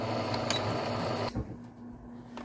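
A sewing machine stitches along the side of a dish towel, a close, steady buzzing whir for just over a second before it stops, leaving a few faint clicks.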